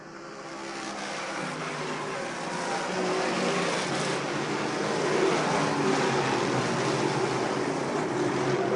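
Race cars roar around a track in a broadband wash of engine noise, steady and fairly loud, building slightly as the field heads into the first turn.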